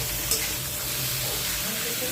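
Mixed vegetables for milk shukto frying in a pan with a little turmeric, a continuous close sizzle with soft stirring scrapes and one brief clatter near the start.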